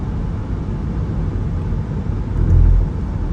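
Toyota Alphard 2.4 automatic, a 2012 seven-seat family van, driving along with a steady low engine and road rumble, swelling briefly louder near the end, with no talk.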